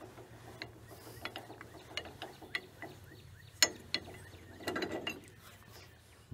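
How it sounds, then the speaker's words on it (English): A handle is screwed onto a lift handle clutch mechanism, giving quiet, close clicking and ratcheting metal ticks in an irregular series, with a brief rougher scrape near the end. "So this handle just screws on."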